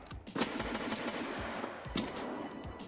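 Shotgun fire in Escape from Tarkov, a handful of sharp separate blasts about half a second apart over steady background ambience.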